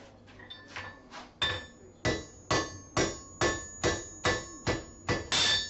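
Hammer blows on metal while a spatula is hand-forged, ringing strikes in a steady rhythm of about eight close, loud hits, following a few lighter taps.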